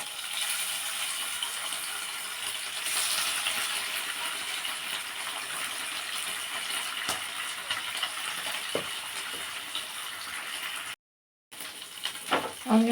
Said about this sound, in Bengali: এখন আমি ছোট মাছগুলো দিয়ে দিচ্ছি ভাজা হওয়ার জন্য